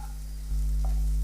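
Garlic sizzles and gets stirred in a hot pan for paneer butter masala, a steady close frying hiss that swells louder halfway through, with no voices.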